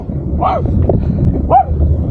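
Large dogs at a ranch in France give two short barks or yelps about a second apart, fairly close, over a low background rumble.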